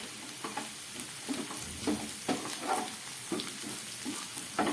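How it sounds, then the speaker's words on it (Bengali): Sliced capsicum and potato frying in a pan with onion and whole spices, a continuous sizzle broken by recurring scrapes and stirs. "ক্যাপসিকাম আর আলুটা আমার প্রায় ভাজা হয়ে গেছে"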